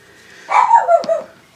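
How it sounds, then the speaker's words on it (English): Dogs bark indoors in a quick cluster of three or four sharp, close yips over about a second, with quiet room tone on either side. "Sorry about the dogs."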